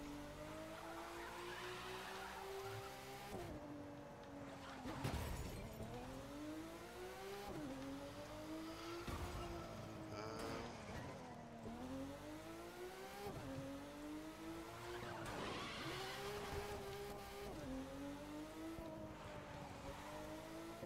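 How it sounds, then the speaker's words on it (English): A car drifts and skids in the racing game The Crew 2, its engine droning and rising and falling in pitch through repeated slides, loud and steady with no talk. "Excellent drifting."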